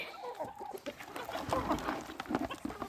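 Chickens cluck and call repeatedly at a feeding trough in a farmyard, a busy, close flock of overlapping clucks and short squawks with no talk.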